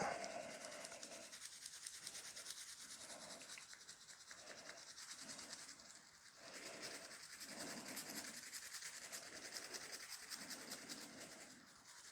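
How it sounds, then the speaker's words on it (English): Brushing inside the bolt of a Colt M4 carbine during cleaning, a steady scratchy scrubbing with repeated back-and-forth strokes, close and fairly quiet, with no talking. "we're going to grab our bolt and we're going to brush inside of that"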